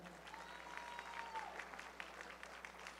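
Steady applause from a room of people, a soft patter of clapping that stays even throughout.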